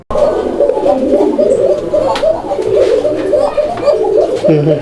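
A male domestic pigeon at a pigeon sale in Bangladesh coos loudly and close by, a repeated throaty rolling call running steadily throughout.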